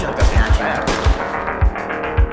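Rapid gunfire in the tactical shooter Ready or Not, a close burst of several sharp shots followed by a few more spaced single shots, loud against background game noise.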